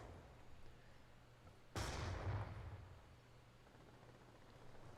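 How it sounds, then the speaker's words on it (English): A grenade explosion in a first-person shooter video game: one sudden loud boom breaking a quiet background, followed by a roughly second-long rumbling decay that fades back to low hiss. "This guy's throwing grenades fucking willy-nilly, bro."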